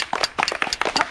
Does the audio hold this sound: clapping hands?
yes